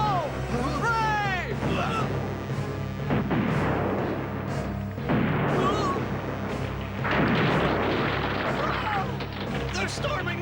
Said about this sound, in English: Everyone fire at the count of 3.